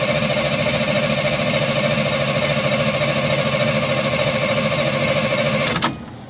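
A 1989 GMC 3+3 truck engine runs steadily at a loud, even idle with a rough pulsing beat, then cuts off abruptly near the end with a short clatter.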